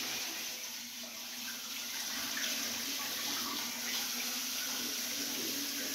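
Tap water runs steadily into a container, a continuous close splashing hiss while a bucket is filled to sterilise beer bottles.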